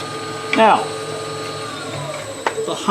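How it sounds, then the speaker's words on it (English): A wooden bowl's rim chatters against a turning tool on a wood lathe during bowl turning, giving brief high-pitched squeals over the lathe's steady hum, with a sharp tick near the end. "the high-pitched sound you heard is this rim vibrating against that tool"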